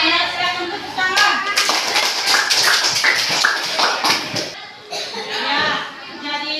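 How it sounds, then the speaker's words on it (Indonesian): Schoolchildren in an Indonesian classroom clap together in a short burst of sharp, fairly close hand claps, with children's voices and chatter mixed in and a brief lull before a final scatter of claps. "silakan tepuk tangan"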